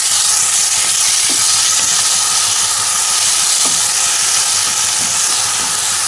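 Ginger garlic paste frying in a pan for chicken curry while being stirred, a loud, continuous close hiss and sizzle with faint scraping underneath and no talking.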